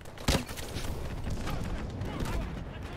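Gunfire in Call of Duty: Advanced Warfare, one sharp loud shot near the start followed by a busy, rumbling battle din of scattered firing and game effects.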